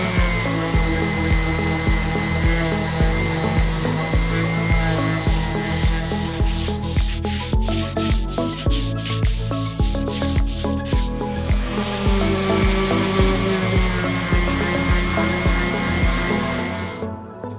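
A hand sander works continuously on fairing compound spread over a boat hull, a loud, steady buzzing grind with rhythmic surges as it is pushed back and forth, heard alone without talk.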